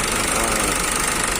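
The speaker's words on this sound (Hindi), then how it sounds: "एक वाल ओपन रहने की वजह से ही मिसिंग कर रहा था।" A Nissan X-Trail T31 with the 2.0 dCi M9R diesel engine misfiring from an unseated valve rocker, running steadily with a rough, uneven knocking idle that stays loud and constant throughout, with no voices.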